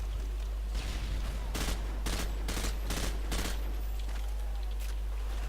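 Automatic weapon spraying in Modern Warfare 2: a rapid string of loud, evenly spaced gunshots lasting about two seconds over steady game background noise, with no voices.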